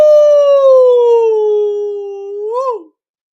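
A person's voice imitates a wolf howl in one long, loud, sustained tone that slowly falls, then rises and breaks off sharply.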